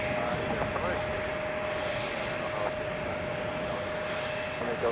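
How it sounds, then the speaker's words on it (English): United Airbus A319 airliner at Chicago O'Hare, heard as a steady, continuous engine drone with a faint sustained whine, holding an even loudness for the whole stretch. "this is United Flight 771 from Nashville, Airbus A319."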